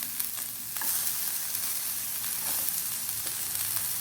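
Carrot and capsicum sizzle steadily in hot oil in a pan for Chinese bhel, a continuous close fry with a few light stirring scrapes, no talking.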